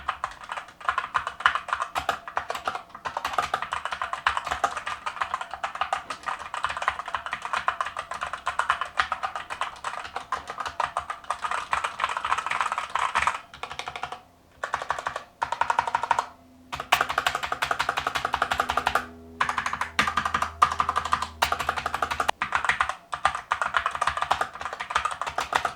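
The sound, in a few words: typing on a cheap mechanical keyboard, stock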